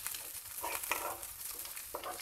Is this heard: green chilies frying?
yes